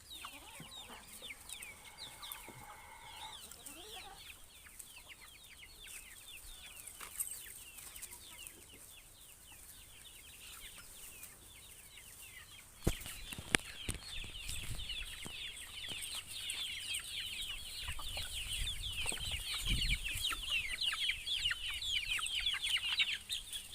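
Incubator-hatched chickens and a rooster cluck repeatedly in a farmyard, with busy overlapping calls that grow louder and denser partway through, over steady background noise and a few handling knocks.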